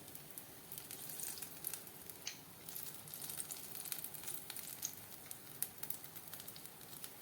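Bottle gourd bhajiya fry in oil in a kadai over a low flame, giving a steady, soft sizzle with scattered crackles and pops throughout.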